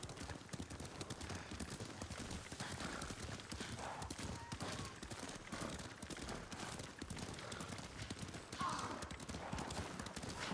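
Horse hooves clip-clop in a steady walking rhythm in the Ghost of Tsushima video game, with several animals moving together and occasional snorts over a constant ambient bed.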